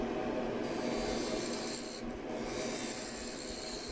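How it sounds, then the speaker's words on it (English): A lathe tool hollowing out a wooden bowl on a woodturning lathe, a close, continuous rasping scrape that holds steady throughout with a brief dip midway. "trying to determine the thickness of the bowl here while I'm hollowing out some of the final amounts of wood"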